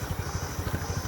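A motorcycle engine that has just been started idles with a quick, even putter of low pulses, close by and moderately loud, with no voices over it.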